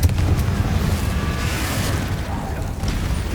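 A Confringo fire spell blast in the Hogwarts Legacy video game: a loud, booming explosive burst with rumbling roar that holds steady, then dips briefly before swelling again near the end.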